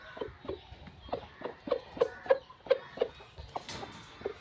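Farm chickens cluck in short, repeated bursts close by while being fed greens, a loose rhythm of soft calls across a few seconds.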